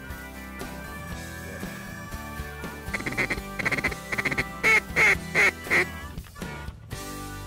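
Ducks over a rice field give loud, rhythmic quacks in a series of about six bursts in the middle of the recording, heard over a steady background of music.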